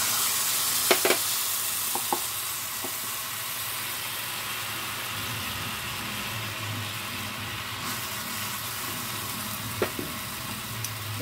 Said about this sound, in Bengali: তেলটা হয়ে গেলেই এটা হয়ে গেছে, এবার আমি দিয়ে দিচ্ছি এই তেঁতুলটা।